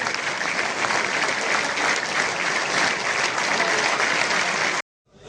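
Loud, sustained applause from a crowd welcoming a guest at a birthday gathering, continuous clapping that cuts off abruptly near the end.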